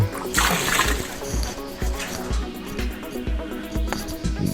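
Water being scooped out of a home fish tank during cleaning, a series of rhythmic splashes and sloshes roughly every half second, close and fairly loud, with a soft trickle between scoops.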